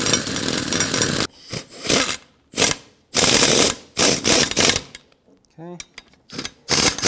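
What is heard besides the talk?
air impact wrench driving brake caliper bracket slider pins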